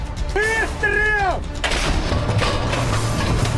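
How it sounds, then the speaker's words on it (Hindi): A brief warbling whistle gives way to dense, continuous machine gun fire and rumbling blasts in the Russia-Ukraine war, filling the remaining seconds with no pauses. "कहीं गन मशीनें गरज रही हैं।"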